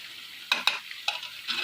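Chicken pieces coated in tandoori spice frying in a pan, with a faint sizzle and a few brief stirring scrapes and clinks as the pieces are turned.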